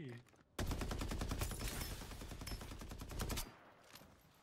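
Rapid AK rifle fire in the video game Farlight 84, a dense sustained burst of automatic shots lasting about three seconds, loud and close, with a brief pause before it and quieter game sounds after.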